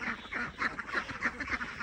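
Small-farm ducks in Canada quack repeatedly in a lively, overlapping chorus at bedtime, close by and fairly steady across the moment, with no talking.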